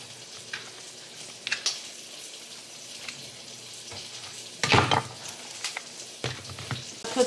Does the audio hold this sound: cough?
no